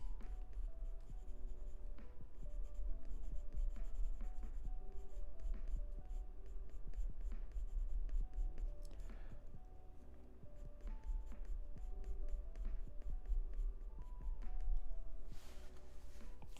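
A white pen is drawn over pencil on paper during a live portrait drawing, giving soft continuous scratchy strokes throughout, close and steady with faint background hum.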